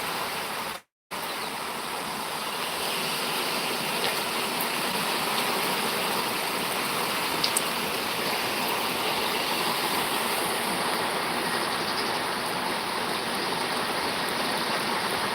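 Rain falls over farmland in Chavand, a dense, even hiss that runs without a break for the whole stretch apart from one brief dropout near the start, with no voices.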